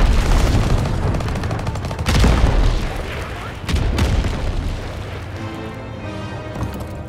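Cannon blown up in Call of Duty WW2 amid battlefield gunfire: loud booming blasts and rattling fire, with a heavy explosion around the middle and another burst later, then rumbling debris fading out.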